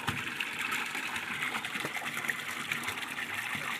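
Water runs steadily from a well pump in a farmyard, a continuous close gushing trickle with no talk over it.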